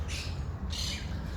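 Parrots squawking in Syntagma park in Athens, two harsh calls in quick succession over a low hum of city background.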